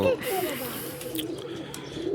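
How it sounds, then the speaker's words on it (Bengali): A pair of Teddy pigeons coos softly and steadily close by, low murmuring calls running through the clip with a faint background hiss. "এই হলো কবুতর জোড়া"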